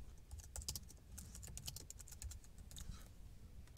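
A file name is typed on a Mac keyboard in quick, light bursts of close key taps with brief pauses between, quiet and unaccompanied by talk.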